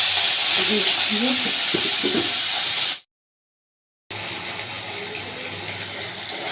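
Prawns sizzle in hot oil, a steady loud hiss of frying throughout, briefly cut to silence partway, with a voice talking over the first half.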